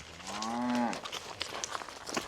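A cow in a farm pen lets out a single drawn-out moo that bends downward at the end, fairly clear and close, followed by shuffling hoof and movement noise.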